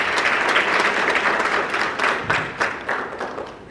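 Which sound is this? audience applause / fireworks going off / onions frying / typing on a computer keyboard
audience applause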